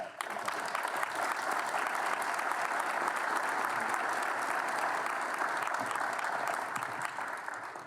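Sustained applause from attendees at an airport business association's annual meeting, a moderately loud, even wash of many hands clapping continuously for about eight seconds.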